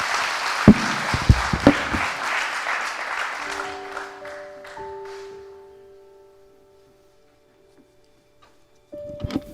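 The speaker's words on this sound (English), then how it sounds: "Give her a round of applause." Audience applause at a motivational talk, a burst of loud clapping and a few sharp claps up front that thins and fades over several seconds into near silence, with a low sustained tone lingering beneath before noise returns at the end.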